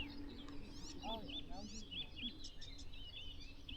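An icterine warbler delivers quick, chattering warbling phrases with varied chirps and whistles, somewhat distant over a soft background hiss.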